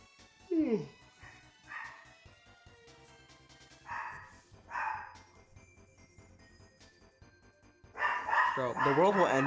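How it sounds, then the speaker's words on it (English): A dog barks in several separate bursts, a few sharp and loud, over a steady low background hum and some quiet talking. "the world will end before my dog stops barking"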